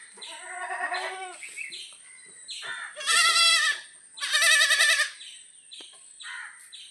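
Goat that has kidded for the first time, with a month-old kid, on a farm near Manjeri: several close, loud bleats, two long wavering cries standing out between shorter calls, with no talk over them.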